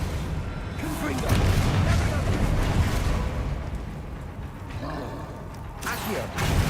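Fiery Confringo spell blasts in the Hogwarts Legacy video game, several rumbling booms within dense combat noise, loud and close, with shouted spell calls over the top.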